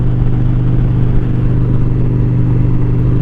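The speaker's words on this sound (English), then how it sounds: "I can still hear the wind, but I don't feel the buffing on top of my helmet" Riding an Indian Challenger motorcycle fitted with a new windshield produces a loud, steady rush of wind blended with engine rumble, with no pauses and no talking.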